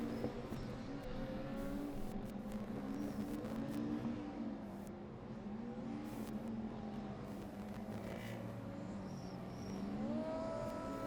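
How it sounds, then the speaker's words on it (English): A Formula Student race car lapping the track during the 2012 Formula Student Germany endurance event, its engine droning and shifting pitch as it drives by at a moderate distance, steady throughout. "And we've got another car out on track."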